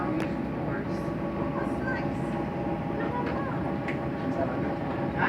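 A Strasburg Railroad passenger train rolls along with riders seated in a swivel car, a continuous low rumble of wheels and carriage with faint squeals and knocks running throughout.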